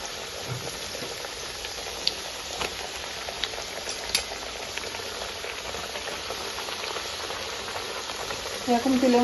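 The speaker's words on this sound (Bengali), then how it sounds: "এরকম তেলের মধ্যে বুদবুদ উঠলে ভাববা ভালো ভাজা হবে চিপসটা।" Potato chips deep-fry in hot oil, a dense, continuous sizzle and bubbling crackle that stays even and close throughout.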